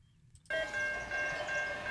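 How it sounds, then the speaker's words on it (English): A loaded Norfolk Southern coal train on the Water Level Route in Ohio rolls in abruptly, a loud steady rumble of wagons with a sustained high ringing tone over it, close by and continuous. "And now we get to see another loaded coal train."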